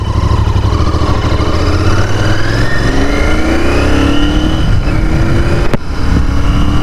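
A Royal Enfield Continental GT650 motorcycle pulls away, its engine loud and close as the revs climb through the gears in a rising drone, with a sharp click partway through.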